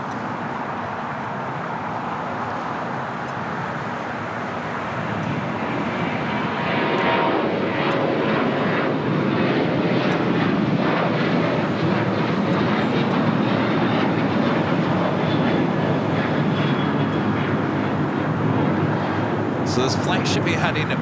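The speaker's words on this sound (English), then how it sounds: "So this flight should be heading back to Atlanta just a little after 11 a.m." An airliner at LAX bound for Atlanta roars loudly, its jet engine noise swelling after about five seconds into a sustained, broad rumble that holds steady to the end.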